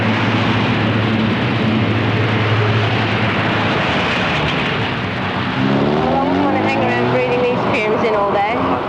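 Road traffic outside in a 1981 setting, a loud continuous wash of passing vehicle engines and exhaust rumble close by, with a rising engine drone building in the last few seconds.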